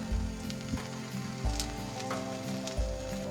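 Egg white omelette sizzling steadily in a frying pan as the whites set, with soft crackles and occasional light scraping close up.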